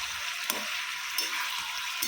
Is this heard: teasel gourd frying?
yes